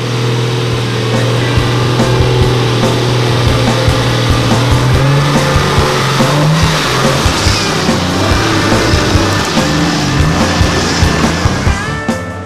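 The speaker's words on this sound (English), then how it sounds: "let's jump in these vehicles and have a great day of hardcore four-wheel driving" Four-wheel drive vehicles grind along a hardcore off-road track at Bunyip, engines droning steadily with rising revs and clattering bumps throughout, heard close and loud without talk.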